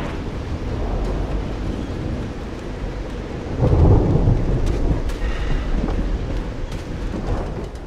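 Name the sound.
thunderstorm with thunder and rain in Call of the Sea video game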